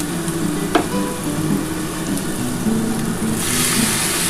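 Boiled young jackfruit pieces fry with spices and Kashmiri chilli powder in a pan, giving a steady close sizzle with a sharp utensil scrape near the start and soft stirring throughout.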